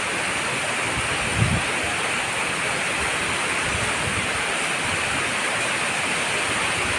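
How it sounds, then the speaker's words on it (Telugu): Heavy rain pours steadily in Vijayawada, a dense, even hiss of downpour holding at the same loudness throughout, with a single faint low thump early on and no voices. "చూసారా అసలు శబ్దం వాన శబ్దం ఎలా వస్తుందో"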